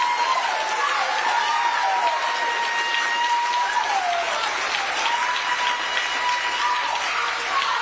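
An audience gives a standing ovation at a political event, steady dense clapping that holds at an even level throughout with a few faint crowd voices mixed in.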